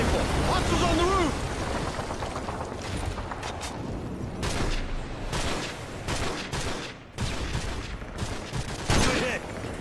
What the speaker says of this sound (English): Switch to your sniper rifle.